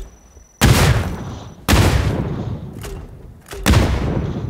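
Explosions and gunfire in the mobile battle royale game PUBG New State: three loud broadband blasts, each with a rumbling decay, strike about a second apart, close and dominant, with faint crackle between them and no talk.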